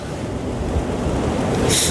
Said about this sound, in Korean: 그래도 파도가 덜 심해가지고